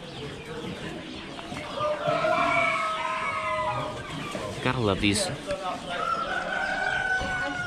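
Chickens cluck and a rooster crows among caged fowl at an Amish animal auction, the bird calls close and overlapping under steady crowd chatter and a nearby voice.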